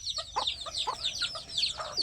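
Desi village hens make quick, close clucks and chirps in a busy flurry, calls overlapping at a moderate level with no talk.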